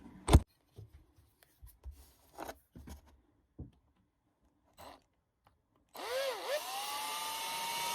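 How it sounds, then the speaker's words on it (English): After some scattered clicks and handling noises, a power drill with a 1/2-inch bit whirs up close, its motor rising and dipping as it bores into deer antler. "So I'm going to make a little mark right there, and I'm going to drill it out"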